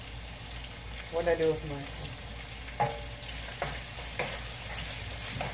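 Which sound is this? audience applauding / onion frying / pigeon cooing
onion frying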